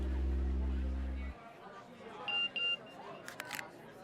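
A phone chimes with a text message notification, two short high beeps followed by a brief buzzing blip, heard at moderate level after a low droning tone cuts off.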